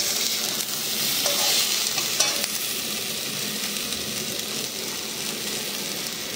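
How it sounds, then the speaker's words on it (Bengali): Water poured into a pan of frying potato, onion, ginger and tomato curry, giving a steady loud hiss and sizzle throughout with a few brief scraping stirs, no voices. "হালকা জল দিয়ে দেওয়া হবে"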